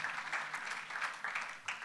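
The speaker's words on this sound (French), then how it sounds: "vraiment on l'applaudit" Brief burst of applause from a crowd, steady clapping at moderate volume.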